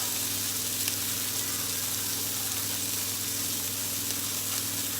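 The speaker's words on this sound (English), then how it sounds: "Those tomatoes are cooking." Tomatoes sizzle steadily in a frying pan, a loud continuous hiss close by with no pauses.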